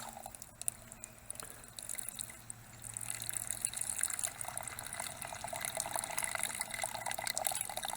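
Water from a hydraulic ram pump pours steadily into a 32-ounce cup, a continuous splashing gush that grows fuller and louder after the first few seconds and keeps running without a break.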